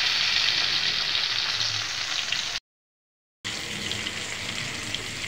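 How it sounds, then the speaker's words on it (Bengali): Tilapia fries in mustard oil over low heat, giving off a continuous close hiss and crackle of bubbling oil, broken by one short silent gap. "চুলার জাল একটু কমাই দিয়ে আস্তে আস্তে ভাজলে খুবই সুন্দর হয়েছে ভাজাটা।"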